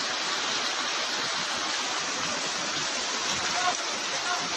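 Deep floodwater from Typhoon Kristine in Albay and Sorsogon rushes past in a steady, loud, hissing roar that never lets up, with no distinct voices.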